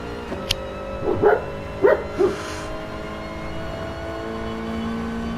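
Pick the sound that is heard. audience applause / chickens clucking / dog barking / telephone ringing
dog barking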